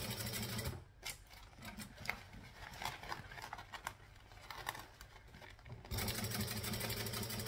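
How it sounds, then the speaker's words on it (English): A sewing machine stitches back and forth on a beanie, a rapid whirring patter that runs loud, slows into uneven bursts while backstitching, then surges steady again, close and without speech. "So I'm just going to stitch and backstitch."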